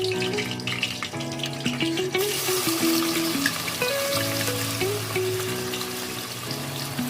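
Chopped onion fries in hot oil for a dal khichdi tadka, giving a soft, steady sizzle beneath louder background music with sustained tones.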